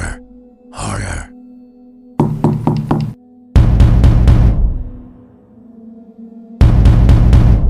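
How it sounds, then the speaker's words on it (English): Hard knocks on a door come in loud, tight bursts of three to five raps, growing heavier and more forceful, separated by silences and low, eerie background tones. "Another knock, louder,"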